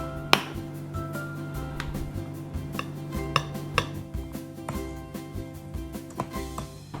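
Brown sugar, powdered milk and flour for Spanish bread are mixed in a bowl, with a steady series of light taps and clicks of a utensil against the bowl over a faint background hum.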